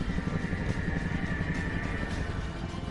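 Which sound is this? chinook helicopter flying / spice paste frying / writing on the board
chinook helicopter flying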